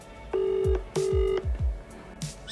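Phone keypad tones as a call is dialed, two long beeps followed by several short clicks and taps, close and clear with no talk.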